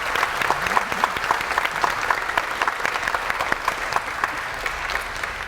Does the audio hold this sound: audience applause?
yes